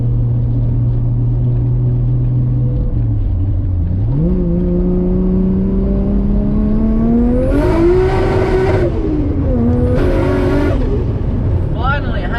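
A 550 hp Nissan Skyline R33 with an RB25DET engine accelerates under boost on a mountain touge road, its loud, close engine note rising through the gears with short breaks at the shifts and a strained whine climbing with revs.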